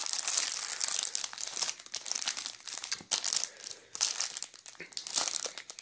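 Plastic wrapping crinkles and crackles continuously as a Ukrainian Easter gingerbread is unwrapped, close and busy with irregular rustles and sharper snaps, no speech over it.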